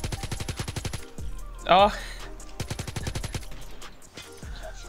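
RPD light machine gun in COD Mobile fires rapid, evenly spaced bursts of loud shots, pausing briefly while a voice exclaims, then resuming in steady automatic fire under game sounds.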